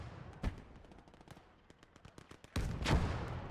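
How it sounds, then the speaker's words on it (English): Gunfire and heavy bursts in the Gates of Hell Ostfront strategy game, with scattered shots early on and a loud, sustained blast and rumble in the second half, suggesting mortar impacts amid the battle. "Mortar's going off though."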